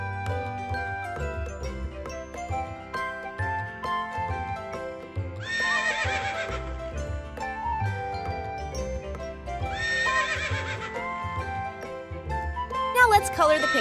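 A horse whinnies twice in long, shrill, quavering calls over a steady clip-clop of hooves and light jingling, set within a bed of cheerful background music.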